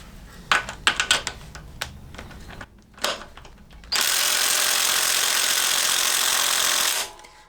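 A 1/2-inch bolt on the engine plate of a 1975 Triumph Bonneville T140 cracks loose under a wrench with a single sharp snap. Clicks and tool handling come before it, and a long steady hiss of noise follows.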